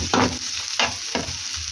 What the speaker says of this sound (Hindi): अब हम अपने उसी पैन के अंदर डाल देंगे अपनी गाजरें, और गाजरों को हम 1 मिनट के लिए कुक कर लेंगे अच्छी तरह से।